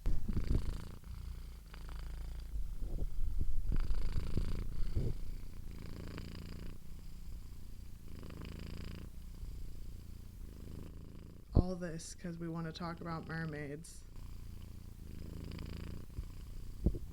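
A cat purrs close up, a low rumbling hum that swells and fades in rhythmic cycles while a person talks over it.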